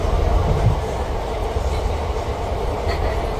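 A passenger train on the Ambala Cantt to Bathinda route rumbles along steadily, a low continuous roar of wheels and carriage noise heard from on board.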